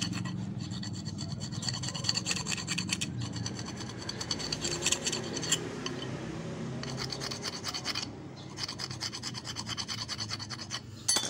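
A disc brake pad is filed by hand while being fitted, giving a gritty, rasping scrape in rapid back-and-forth strokes. It runs in close, loud bursts with short pauses between them.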